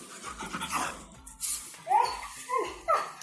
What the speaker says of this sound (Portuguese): eu tenho aqui comigo um cachorro tremendo de medo